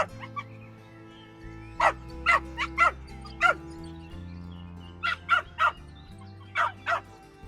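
A dog barks in short repeated bursts, two clusters of several sharp barks over a steady musical underscore in an animated fairy tale set near a deserted palace.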